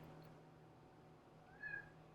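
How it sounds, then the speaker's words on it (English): A cat gives one short, faint little meow, fairly distant against a quiet room hum. "My cat just let out a little meow."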